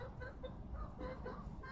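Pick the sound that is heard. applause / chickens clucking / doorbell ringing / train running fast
chickens clucking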